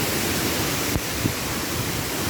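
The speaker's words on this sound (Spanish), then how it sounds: "nos encontramos con este maravilloso lugar, la cascada La Reina." La Reina waterfall near Cali roars as a steady, broadband rush of falling water, dense and unbroken throughout, heard up close with no voices.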